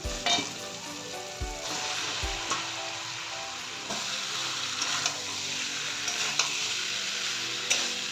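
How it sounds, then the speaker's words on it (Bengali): Fried potatoes and pointed gourd drop with a few soft thuds into hot, spiced oil for a Bengali rohu fish curry, setting off a loud, continuous sizzle with occasional stirring scrapes and no talking. "আমি এখন আলু আর পটল ভাজা সেটাকে দিয়ে দিচ্ছি।"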